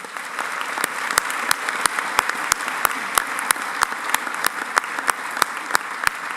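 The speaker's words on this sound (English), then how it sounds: "let's give them a big round of applause" A large audience applauds at an honors ceremony, steady dense clapping with sharp individual claps standing out throughout, fairly close and sustained without talk.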